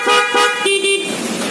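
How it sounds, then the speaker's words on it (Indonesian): A loud dual-tone horn on a custom-modified motorcycle honks in a few short, close blasts, with a brief pause before a longer final toot. "Suaranya kencang ya klaksonnya."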